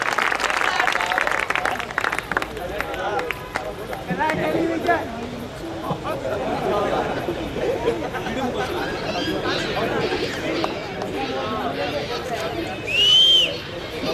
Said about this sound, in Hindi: आप एक बार जोरदार तालियों की गड़गड़ाहट के साथ अभिनंदन करें